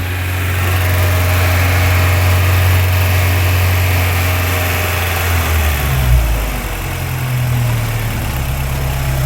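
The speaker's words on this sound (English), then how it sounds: "let me turn the engine off." A Volkswagen Golf Mk3 engine runs close and loud under the hood while its radiator and heater hoses are getting hot, a steady idle with a brief shift in pitch partway through.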